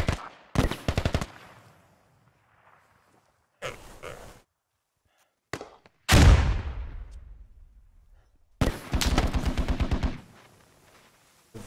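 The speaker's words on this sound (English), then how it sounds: "There is some fire coming in." Incoming gunfire in the military shooter Squad: separate bursts of rapid automatic fire arrive in uneven clusters, some sharp and close, others fainter, with one heavy crack and its echo between long silent gaps.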